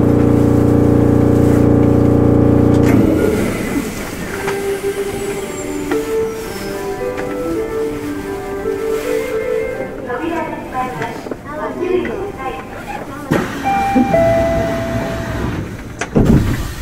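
A Chiba Urban Monorail 0-series train hums loudly at first, then rumbles and clatters as it departs the station, with a chime and a Japanese public-address voice over the noise.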